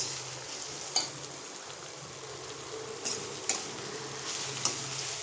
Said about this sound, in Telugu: అందుకని ఫస్ట్ ఒక 5 మినిట్స్ హైలో పెట్టుకుని ఫ్రై చేసుకోవాలి.